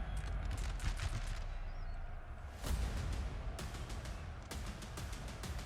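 Musket fire crackles across a Napoleonic battle in the Napoleon: Total War video game, as Italian skirmishers engage Portuguese infantry and artillery. Dense, ragged volleys of pops roll in several bursts over a constant rumbling din.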